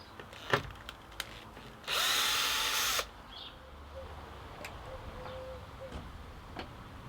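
A power drill drives a screw into wood in one loud, steady burst of about a second, close up. Scattered knocks and clicks from handling sit before and after it, with faint background noise.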